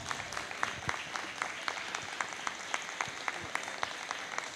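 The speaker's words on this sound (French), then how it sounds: "bonne main d'applaudissements" An audience at a charity benefit dinner applauding steadily, a dense wash of many hands clapping at moderate distance, fairly quiet and continuous throughout.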